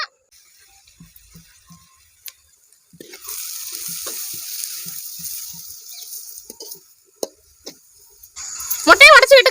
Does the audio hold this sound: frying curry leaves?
yes